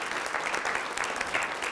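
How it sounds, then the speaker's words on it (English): A small audience at a coffee and coaching gathering in Sauk Prairie, Wisconsin claps steadily for the man who supplied the coffee, with a dense, even patter of hands. "John, let's give a round of applause for John."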